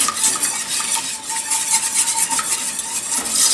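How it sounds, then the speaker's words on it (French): A spoon stirring milk into a parmesan fondue mixture in a pot, close and loud, with a soft, wet, scraping swish repeating in a steady rhythm, with no talking. "Je vais ajouter mon lait en deux, trois reprises"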